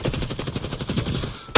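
Rapid gunfire rattles through a video game match in a fast, even burst of close shots, ending with a sharp final crack.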